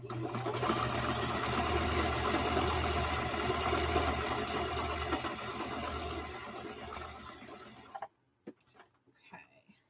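A low-end household sewing machine runs a zigzag test sew at 4.5 width with two thread colours, a fast, steady clattering hum for about eight seconds before stopping abruptly, followed by a few faint handling clicks.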